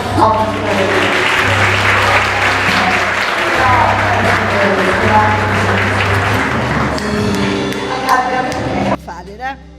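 A church congregation applauds, a dense sustained clapping over soft music with a voice speaking, until the clapping thins and stops near the end.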